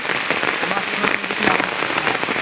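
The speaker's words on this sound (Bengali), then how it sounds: "বৃষ্টি নামতেছে প্রচুর" Heavy rain falls on a home courtyard during a rainy-day outing to catch koi and taki fish, a dense, steady hiss of drops pattering close by throughout with no break.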